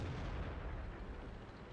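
Tank cannon fire in the World of Tanks game, from the 59-16 light tank: a dense, sustained low rumble of gunfire and explosion with no distinct separate shots.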